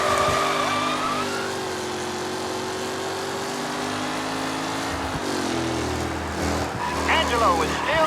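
Race cars driving on the final lap in the 1930s-era game Mafia Definitive Edition, engines droning and revving continuously under an announcer's voice, with a shift in engine pitch partway through.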